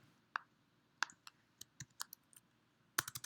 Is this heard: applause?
no